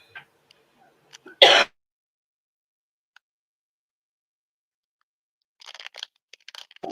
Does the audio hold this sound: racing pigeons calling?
no